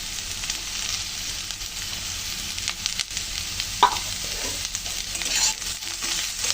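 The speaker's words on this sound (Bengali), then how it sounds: "আলু আর পেঁয়াজ আবার সুন্দর করে ভেজে নেব।" Potatoes and chopped onion frying in a pan, with a continuous close sizzle and hiss, occasional stirring scrapes and one sharp clink partway through.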